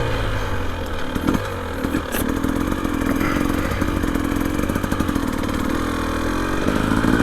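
A 2025 Husqvarna TE300 Heritage Edition dirt bike with an FMF Fatty pipe revs hard and steadily up close, a loud continuous motor roar with rattling clatter and no voices.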